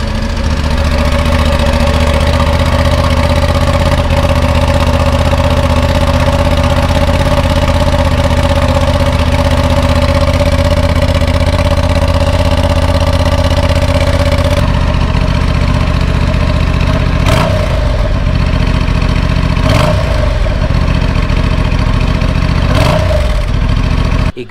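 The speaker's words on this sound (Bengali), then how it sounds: "আর এবার একটু স্টার্ট দিয়ে তোমাদেরকে ইঞ্জিন সাউন্ডটা শোনাই।" Honda Transalp 750 with a parallel-twin engine idles loudly and steadily up close, a deep continuous throb, then settles lower with three short revs of the throttle near the end; no talking.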